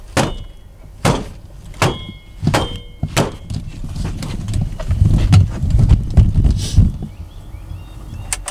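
Tapping on the blower motor of a Volvo VNL semi truck produces a series of sharp metallic knocks, several spaced apart early on, then denser clunks and rattling with a low rumble.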